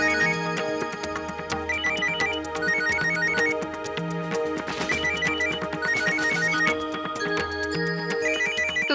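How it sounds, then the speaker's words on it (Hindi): A phone ringtone plays a repeating electronic melody alone and steadily throughout, with no talk over it. "आपका फोन।"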